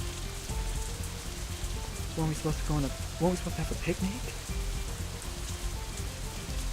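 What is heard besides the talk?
rain outside in video game Katawa Shoujo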